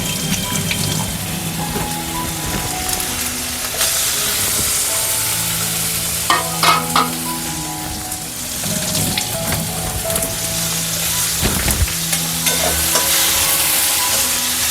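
Chopped tomatoes hit a hot pan and fry for an Ilish fish dish, with a steady broad sizzle and repeated scraping stirs clattering against the pan throughout, no talking.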